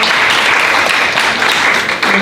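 Loud, dense applause from an event audience fills the whole moment, a steady wash of many hands clapping close by with no talk over it.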